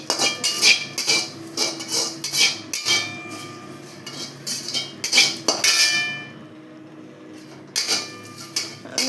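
Curry leaves lightly sautéed in a pan for idli podi, heard as repeated quick spatula scrapes and clatters against the metal pan, continuous and fairly loud with a short pause.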